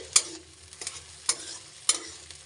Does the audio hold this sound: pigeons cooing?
no